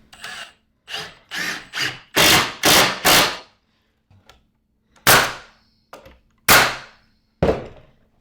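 A nail gun drives 2.5-inch 16 gauge brad nails into wood, firing about eight or nine sharp, loud, close snapping shots, some in quick bursts and some spaced apart, with quiet gaps between and no talking.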